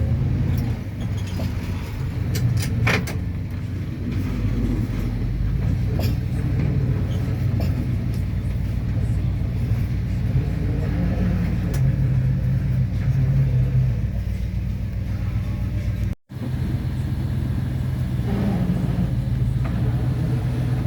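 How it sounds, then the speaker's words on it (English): A tow truck backs a Chrysler LeBaron parts car into a driveway, a steady low engine rumble running close and continuous for the whole stretch with faint clinks of chains and metal and a brief drop near the end. "alright, let's see if I can back this car in here."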